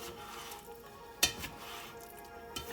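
Quiet, steady sizzling in a frying pan with occasional scraping clicks as scrambled eggs are pushed around over low heat.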